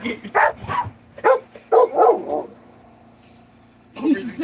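A young female puppy, still under a year old, gives several short, excited barks and yips in quick bursts, close to the microphone, followed by a pause and another yelp.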